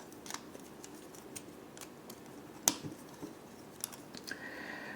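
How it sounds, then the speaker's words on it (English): Plastic clicks and snaps from a Skystalker Revenge of the Fallen Scout Class Transformers toy as its wings and arms are folded out, a few sharp close clicks with one louder snap among soft handling rustle. "And then you can fold out the wings and the arm."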